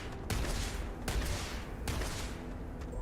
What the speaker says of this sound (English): there's a bunch of UC Marines in their underwear practicing shooting at targets